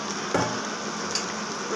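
Whole spices and bay leaves frying in oil in a pan while being stirred, a steady close sizzle broken by a couple of soft taps.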